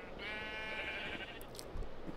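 A sheep in a modded Minecraft game bleats once in a clear, wavering call near the start, over faint background game noise, followed by a few soft clicks.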